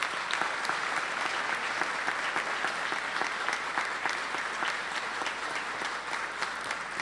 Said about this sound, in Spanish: Agradecemos y renovamos el aplauso.